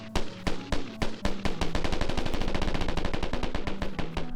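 Gunfire rattles in the video game DayZ at varying distances, a few separate shots giving way to a long dense burst of rapid automatic fire, loud and continuous with no talk.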